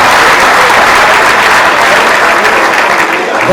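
Loud, sustained applause from a gala audience in Montréal, dense clapping filling the room steadily from start to finish with no pause.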